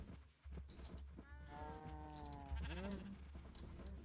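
A sheep bleats in Minecraft with a long wavering cry, then a second shorter bleat follows over a steady low background hum.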